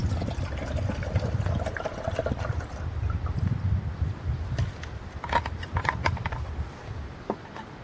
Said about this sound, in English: So we're gonna go ahead and fill this up with some water.